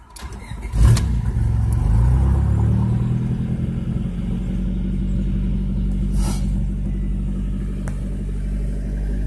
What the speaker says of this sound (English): I put the plugs back in, and I started it